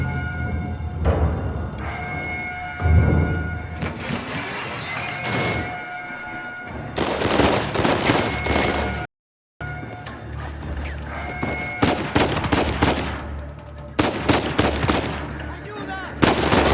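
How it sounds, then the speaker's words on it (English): Heavy gunfire in a chaotic Uncharted 4 shootout, with bursts of rapid machine-gun fire and single shots crackling repeatedly over a loud, dense battle din, with brief thuds and a short gap of silence midway. "I'm shooting people, I don't know who they are."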